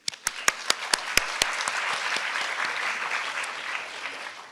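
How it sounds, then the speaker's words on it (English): Applause at an international math modeling competition awards ceremony: a few sharp, distinct claps ring out first, then a steady wash of audience clapping continues at moderate volume. "Let's give another round of applause to all the participants."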